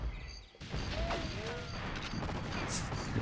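Rapid bursts of gunfire in 007 GoldenEye, with a brief lull before a dense stretch of repeated shots and crashing impacts in the mix, loud and continuous to the end.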